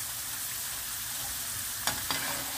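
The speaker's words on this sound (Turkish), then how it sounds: "Patateslerimiz bu şekilde yağda kızarana kadar bekliyoruz." Potatoes frying in sunflower oil give off a steady, close sizzling hiss, broken near the end by two brief sharp clinks.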